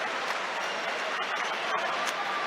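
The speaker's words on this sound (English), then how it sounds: "Huge cheer for Ethan Nwaneri." A football stadium crowd at an Arsenal home match against Athletic Club cheering and applauding as a substitute comes on, a broad, steady roar of cheers and clapping heard throughout.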